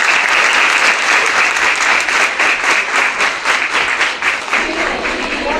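A school audience at a student discussion event breaks into loud, dense applause that holds steady for about five seconds, a continuous wash of many hands clapping together with no talking over it.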